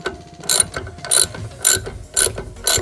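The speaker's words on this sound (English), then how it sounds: "I'll start tightening my adjusters, screws for the track." Ratchet tightening the track adjuster screws on a Ski-Doo snowmobile, five evenly spaced bursts of rapid clicking close up, each a short sweep of pawl clicks with quiet gaps between.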